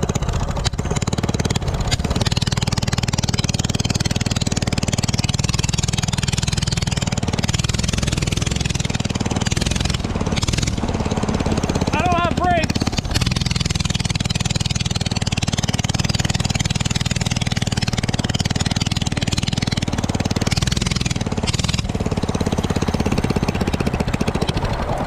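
A 212cc mini pit trike engine runs steadily and loudly throughout, a continuous mid-pitched motor drone close to the listener with little change in rhythm.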